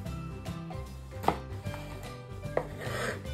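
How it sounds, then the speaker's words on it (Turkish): Red kapya peppers diced small with a knife on a cutting board: a few soft, irregular chopping taps, two more distinct knocks standing out, quiet and close. "Ve biberlerimizi de patlıcanlarımıza eş büyüklükte küçük küçük doğruyoruz."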